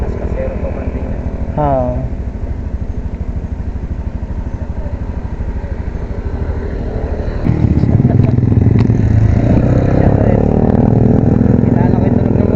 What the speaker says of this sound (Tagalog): Kilala ko yung tunog ng motor eh.